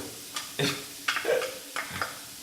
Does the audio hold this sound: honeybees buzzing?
no